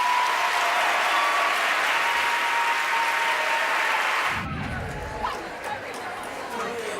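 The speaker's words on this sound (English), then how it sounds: "a huge round of applause for Tunbridge Grammar School" A crowd applauds a school choir at a senior school of the year competition, dense clapping with chatter that cuts off abruptly partway through, leaving quieter murmuring and scattered sounds.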